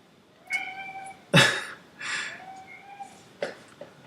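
A house cat meows several times in short, separate calls, some rising and plaintive, close to the microphone in an otherwise quiet room.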